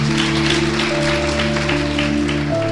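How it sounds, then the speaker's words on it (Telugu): Congregation clapping loudly during a church service, a dense steady patter of many hands over sustained held keyboard chords that shift near the end. "గట్టిగా చప్పట్లు కొడదాం"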